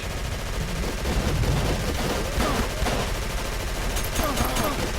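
Machine gun fire in the horror game Call of Cthulhu: Dark Corners of the Earth, a dense, continuous rattle of rapid shots that fills the scene, with voices heard over the gunfire.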